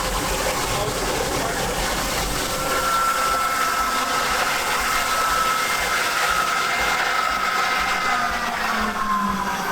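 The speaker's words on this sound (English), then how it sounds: "Most of the noise right now is all coming from the hand lines." A fire engine pump pushing water through hand lines, giving a loud, steady rushing and hissing roar that stays constant, with a faint tone rising and fading midway.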